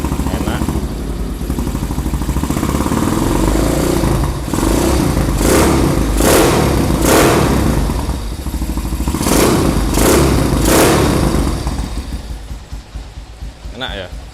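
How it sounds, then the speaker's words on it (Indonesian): A Honda CB motorcycle with a stock engine idles close by, a steady loud thumping putter with a few short rev-like swells, while someone talks over it throughout. "Nah nyalanya tuh seperti ini, mesinnya juga standar, enak."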